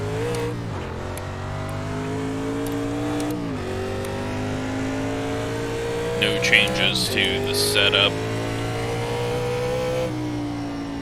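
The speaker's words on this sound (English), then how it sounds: "the cars are loud." NASCAR Legends 1987 stock cars at North Wilkesboro Speedway in the iRacing simulator drone with a loud, steady engine note that rises and falls between gear changes, punctuated by brief higher rasps midway, while someone talks over it.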